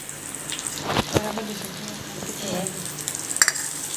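Pav bread toasting in a pan for Mumbai-style masala pav gives a steady soft sizzle, with a few clattering knocks of a spatula or the pan and no talking over it.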